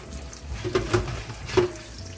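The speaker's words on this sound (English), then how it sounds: "First, obviously, you wash your potatoes." Tap water runs into a sink as potatoes are rinsed by hand, a soft steady stream with a few louder splashes and clunks as the potatoes are moved under the flow.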